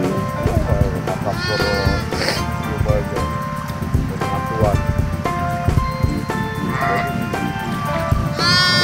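Garut sheep bleat repeatedly amid a busy, noisy outdoor scene in a rice field, with people talking loudly throughout.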